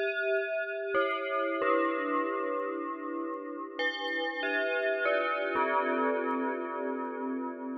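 Bright synthesized bell tones struck one after another, each chime ringing with metallic overtones and sustaining into the next, clean and alone.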